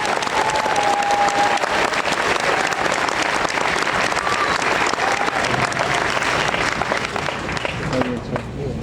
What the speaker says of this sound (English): Can I get a round of applause for our newest citizens